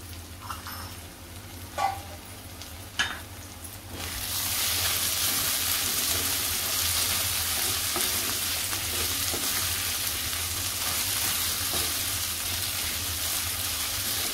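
Onion, tomato, ginger and garlic frying in a pan: a few stirring knocks at first, then a loud, steady sizzle that fills the rest of the clip, with no voices.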